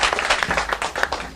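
An audience at a library groundbreaking ceremony applauds in a brief, dense burst of clapping that fills the short moment at close range.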